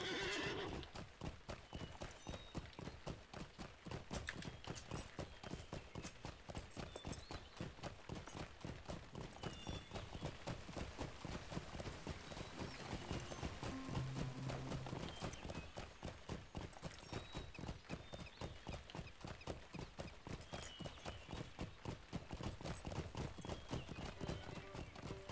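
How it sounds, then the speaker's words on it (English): Horse in the game Lord of the Rings Online gallops with rapid, steady rhythmic hoofbeats throughout, a whinny mixed in, and a voice speaking occasionally over the riding. "Don't mind me, I'm just riding my horse into your house."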